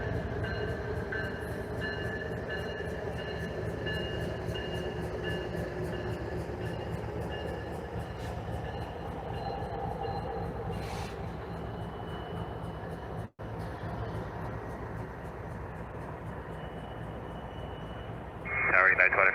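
A Norfolk Southern train rumbles past at a distance in a long, steady low roar, with a faint voice speaking over it.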